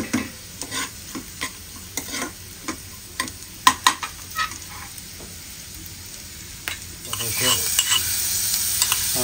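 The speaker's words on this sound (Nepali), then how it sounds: "हल्का आँचमा यसरी एकछिन भुट्यो।" Onion and green chili fry on low heat in a pan, a steady soft sizzle running throughout with repeated clicks and scrapes of a stirring spoon, the frying growing louder and brighter near the end.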